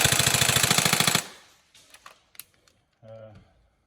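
A Tokyo Marui G36K NGRS airsoft electric gun with blowback recoil fires a loud, rapid full-auto burst of sharp mechanical clatter lasting about a second, followed by quieter clicks and handling noises.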